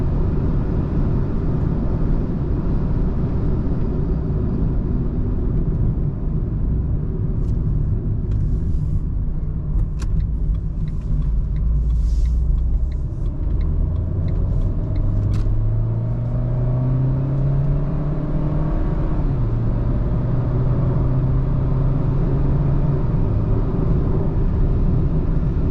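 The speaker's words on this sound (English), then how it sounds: "As you just saw, the gear changes are rather quick, and you also feel no interruption in power." Renault Clio IV engine with a dual-clutch gearbox, heard from inside the car: a loud, steady engine drone that rises in pitch, drops sharply at each quick gear change, then climbs again, with constant road rumble beneath.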